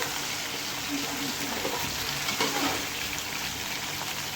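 Ginger garlic paste lightly frying in a pot for white chicken yakhni pulao, a steady soft hiss and crackle with faint stirring scrapes throughout.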